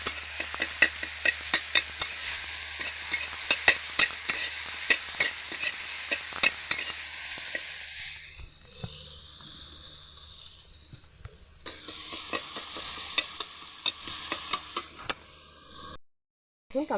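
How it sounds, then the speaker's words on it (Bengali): Tomato fries in a pan for a vegetarian papad kofta curry, a soft sizzle under frequent close scraping and tapping of a spoon stirring, which pauses briefly before resuming near the end. "টমেটোটা কিন্তু ভাজা ভাজা হয়ে এসেছে।"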